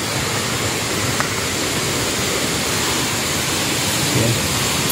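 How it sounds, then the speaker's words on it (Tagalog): Dense, steady roar of Malabsay Falls pouring nearby, a broad unbroken wash of rushing water with no pauses. "Yan na ang falls."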